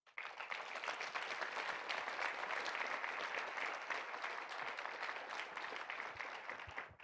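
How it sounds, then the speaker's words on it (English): An audience at the NCSS Social Service Summit 2022 applauding, dense sustained clapping from many hands filling the room evenly for several seconds, fairly distant and soft in level. "Can you give yourself a big round of applause?"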